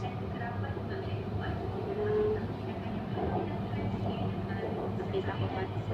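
An MRT train between Kota Damansara and Kwasa Damansara, Malaysia, rumbles steadily along the track with a continuous low roar and faint rattling, fairly close and even in level throughout.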